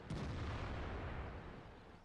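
A heavy tank main gun fires in the online game World of Tanks as a single loud, close boom that opens sharply and trails into a long rumbling decay.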